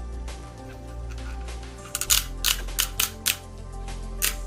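Ratchet joints on an MS-03 Moon Studio Iron Arm model figure click sharply in a quick series of close, crisp snaps as a limb is swung into position, with no talking.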